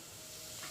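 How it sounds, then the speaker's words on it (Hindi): Cumin seeds sizzle in hot cooking oil in a pan at the start of a pea and mushroom curry. The hiss is soft and steady and very brief. "तेल गर्म हो चुका है और इसमें अब ऐड करेंगे 1 टेबल स्पून जीरा"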